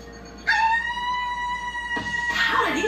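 A three-week-old wolf pup howls in an animated nature show, a thin, high wavering howl rising twice in close succession, loud and near, with a faint voice in the background.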